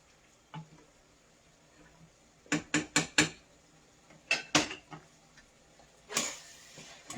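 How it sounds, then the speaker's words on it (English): A utensil stirs ground beef in a pan, giving sharp scraping clatters in short bursts: one knock, a fast run of four, a second cluster, then a final scrape. The clatters sit over a quiet, steady sizzle. "let me give them a stir"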